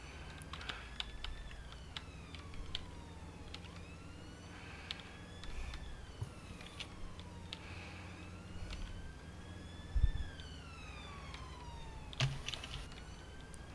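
Computer keyboard typing during an Arma 3 Altis Life police session, faint, quick clicks under a steady background of wailing police sirens that sweep up and down, with a sharp thump near the end.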